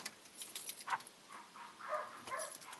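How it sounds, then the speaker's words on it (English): Dogs bark outdoors at some distance, a few scattered faint barks and yelps spread unevenly over quiet background noise. "Dogs are barking. That's normal."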